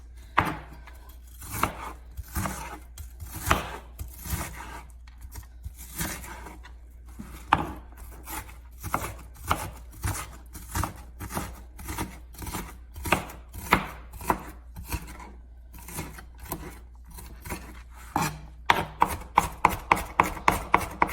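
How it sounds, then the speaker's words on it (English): A knife chops onions into small pieces on a board for a Manhattan-style seafood chowder. Steady, close thuds come in quick repeated bursts for about twenty seconds, ending in faster taps, with no talk. "I like my onions cut up a little bit more than normal because they just seem to cook better too."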